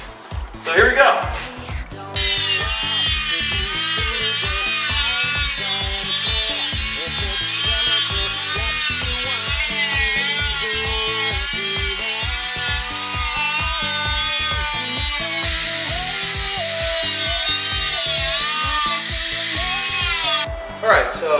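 A power tool cuts through the rear metal chassis of a Nissan S13 with an RB25 engine for an overfender install. The loud, steady grinding whine runs for about twenty seconds between brief pauses at the start and end.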